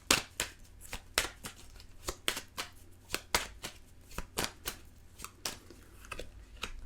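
Tarot cards are shuffled close by as a rapid run of crisp papery flicks and slaps at an uneven rhythm, with no talking over them.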